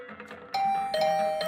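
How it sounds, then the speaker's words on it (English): A doorbell rings in The Hundred Line: Last Defense Academy, giving two bright electronic chimes, the second overlapping a sustained tone, loud and close with no voices. "I was brought back to the land of the living by the unrelenting ringing of my doorbell"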